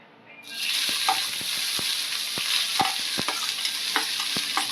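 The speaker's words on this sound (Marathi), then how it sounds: "तेल चांगलं गरम झालं ना की आपल्याला कांदा घालून घ्यायचा आहे" Sliced onion sizzles steadily in hot oil on an iron griddle, a continuous bright frying hiss broken by sharp scraping taps of a spatula, close and loud, with no talk.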